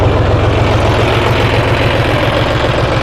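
A John Deere 5310 tractor engine idles steadily with a rotavator raised on its hydraulics, a loud, close, even low rumble throughout with no talk.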